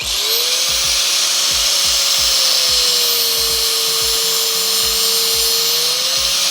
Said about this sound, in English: I like cutting it with an angle grinder